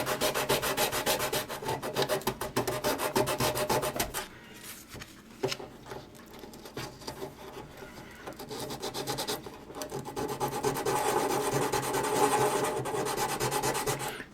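Steady hand sanding on wood, a continuous gritty rasp of back-and-forth strokes that pauses briefly mid-way, then resumes loud and close.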